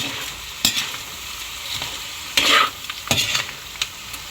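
Miki noodle dish stirred in a hot pan, with a utensil scraping in several distinct strokes over a steady sizzle, close and fairly loud.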